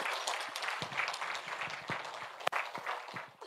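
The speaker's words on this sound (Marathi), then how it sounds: "त्यांच्याकरता पण टाळ्या वाजवूयात." An audience at a Marathi meditation gathering applauds steadily. The dense, continuous clapping holds for the whole stretch, fairly close and alone, with no talk over it.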